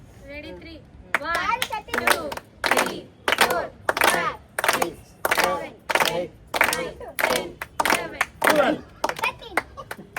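Twelve rhythmic hand claps at a birthday celebration, evenly spaced and fairly close, each clap accompanied by voices counting or chanting along, with children and adults talking through it.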